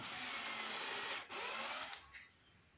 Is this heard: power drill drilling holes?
yes